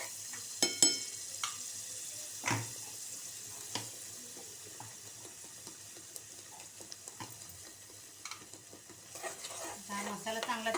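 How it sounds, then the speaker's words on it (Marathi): Masala paste frying in oil for a surmai fish curry, with a soft continuous sizzle broken by irregular clinks and scrapes of a stirring spoon against the pan. "तेलामध्ये फ्राय होऊन द्यायचं थोडासा कढीपत्ता घालायचा"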